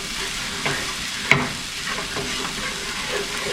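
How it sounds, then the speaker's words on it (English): A spoon stirs flour into a cream sauce frying in a pan, sizzling steadily up close with soft scraping and one brief knock, and no voice. "And stir that in all nice and well."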